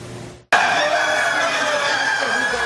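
Laying hens housed at a University of Saskatchewan poultry research facility of about 6,000 birds, heard as a loud, dense, continuous barn chorus of clucking and calls that starts abruptly and fills the space.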